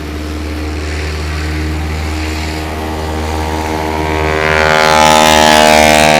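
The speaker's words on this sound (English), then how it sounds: "And the sound of it, that big radial engine, it was just nothing like it." A de Havilland Beaver's big radial engine passes at a short takeoff and landing practice in Jennings, Louisiana, a deep, throbbing propeller drone that grows steadily louder as the airplane rolls by close.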